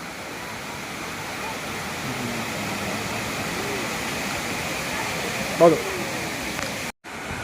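Water gushing over the Vaigai Dam spillway, a steady, broad roar filling the whole stretch, with a faint voice and a brief knock near the end.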